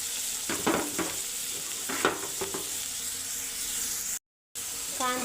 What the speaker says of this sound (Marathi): तेल गरम झालं, या कढईमध्ये आता कांदा घालून घेऊया।